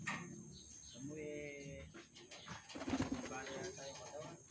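Pigeons in a residential neighborhood give soft, close cooing calls in short bursts amid background noise, while a person talks over them.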